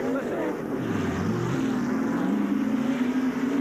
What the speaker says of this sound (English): he is in the car revving it